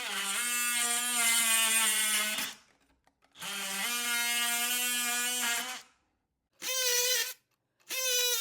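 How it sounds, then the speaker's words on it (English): An oscillating multi-tool buzzes in loud, high-pitched bursts, two long runs followed by two short ones, with silent gaps between. "For this job, I'll just use my multi-tool."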